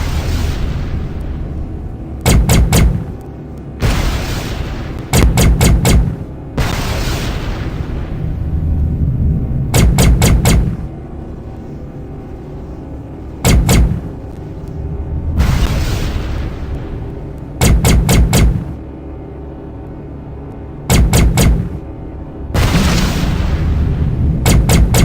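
Ship weapons in the space combat game Tachyon: The Fringe fire at mines in loud, heavy bursts, several booming volleys spaced a few seconds apart over a steady low engine hum.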